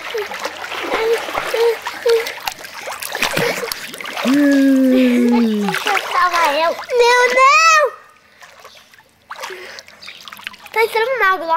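Splashing and water sounds at a swimming pool, with children shouting and talking throughout over bursts of splatter and trickling.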